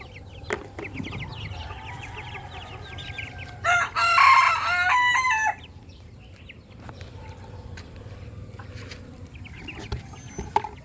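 A rooster crows once, loud and close, rising above scattered nearby clucks from a yard of many chickens, with sharp pecks and small knocks before and after.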